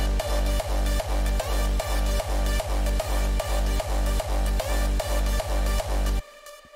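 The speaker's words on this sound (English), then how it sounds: "I have a kick over here and it sounds like this" A booming electronic kick drum in an FL Studio 20 project thumps in a steady four-on-the-floor pulse over chords and a turned-down bass, loud and punchy, then cuts off.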